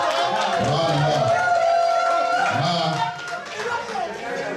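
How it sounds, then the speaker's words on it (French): A crowd at a Cameroonian funeral gathering cheers and chatters loudly and steadily in honour of the family patriarch, with voices rising and falling throughout. "Applaudissez pour le patriarche"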